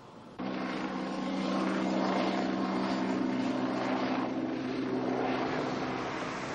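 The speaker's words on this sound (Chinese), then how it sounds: "这个这么大的飞机是波音 747SL" A large Boeing 747 airliner roars steadily and loudly, its broad engine rumble rising abruptly and then holding for several seconds, close and without talk.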